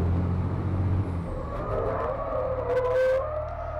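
A European Truck Racing Championship truck spins on a wet track, heard as a loud engine rumble that fades, then a rising tyre squeal and screech.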